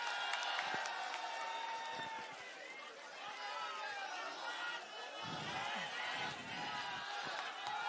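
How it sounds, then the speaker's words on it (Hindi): Crowd at a Jantar Mantar rally in support of Sonam Wangchuk applauding and cheering Sanjay Singh, a dense, sustained wash of clapping and voices that surges again near the end. "जोरदार तालियां हो जाए संजय सिंह जी के लिए"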